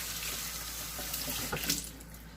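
A tap runs steadily into a sink while hands are rinsed and washed, with a soft continuous water rush and brief splashy moments as the hands move under the stream.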